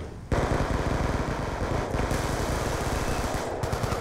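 Rapid automatic gunfire in the PC shooter Black Ops 2, loud and continuous, with rattling bursts that break off briefly twice before resuming, and no talking over it.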